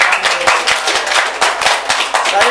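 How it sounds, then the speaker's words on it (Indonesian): An audience claps steadily for two panel speakers at an Islamic discussion forum, dense overlapping hand claps sustained and fairly loud throughout, with no voices on top. "Dan kita mari aplaus kepada kedua beliau"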